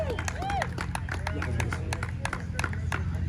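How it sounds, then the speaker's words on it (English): A crowd at a mud-racing series award ceremony claps for a trophy winner, with dense, steady applause filling the room under light chatter from the audience. "Big round of applause."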